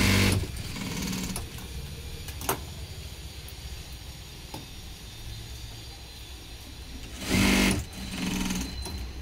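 A sewing machine stitches the waistband of a blouse in two short running bursts, one at the start and one near the end, close and clear against a quiet room hum, with no talk.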